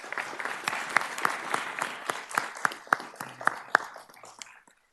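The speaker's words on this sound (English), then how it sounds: "Give Katie a round of applause." A modest group at a city council meeting claps for an award recipient, individual claps clearly distinct and uneven, the applause thinning out and fading to silence near the end.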